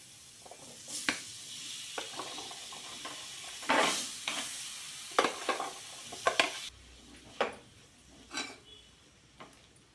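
Chopped onion and tomato go into hot oil with gram flour for a paneer bhaji, giving a soft, steady sizzle broken by irregular scraping stirs of a spoon against the pan.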